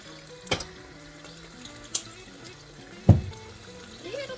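Yaki noodles frying in a pan as Worcestershire sauce is added, giving a steady soft sizzle broken by three sharp clanks of stirring, with a quiet voice faintly underneath.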